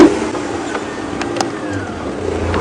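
A safari vehicle drives at night through the Sabi Sand reserve in South Africa, its engine a steady mid-level hum running throughout with faint rumbles and no talking.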